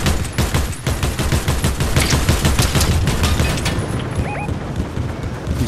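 Dense, rapid gunfire from a Fortnite battle royale match, overlapping shots and bursts crackling loudly and continuously for the whole stretch with no pause.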